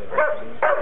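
A female dog in bite-work training gives two short whimpering yelps close by, with a brief pause between them.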